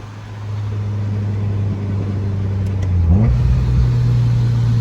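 A 1999 Ford Mustang Cobra with a Kenne Bell supercharger and stock clutch and flywheel idles with a steady, close rumble, then blips its engine briefly near the end before settling back to a loud idle.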